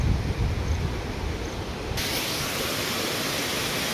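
A hidden waterfall near Khopoli roars as a steady, broadband rush of falling water, close and continuous, its hiss unchanged from start to finish with no voices.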